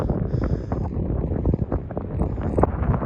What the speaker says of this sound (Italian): Cima raggiunta, c'è giusto un attimo di vento.